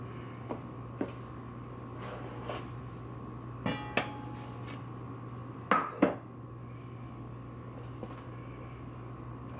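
A hot Dutch oven handled with hot pads while baking no-knead Italian sesame seed bread gives scattered metallic clinks and knocks, a few sharper clanks near the middle, over a steady low hum.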